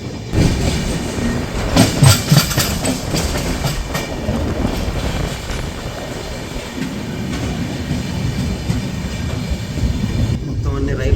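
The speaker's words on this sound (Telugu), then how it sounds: "ట్రైన్ చాలా స్లో అయిపోయిందని వచ్చి వీడియో చేసుకుంటాను" A slow-moving train near Mantralayam railway station gives a steady, close, low rumble with some rattling clatter, continuous across the whole stretch and fairly loud.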